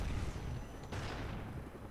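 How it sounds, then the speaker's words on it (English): FN FAL rifle shots in Black Ops 1 multiplayer, a few dull booming reports amid steady game noise. The level stays moderate and the shots are not sharply separated. "I'm using the FNFAL."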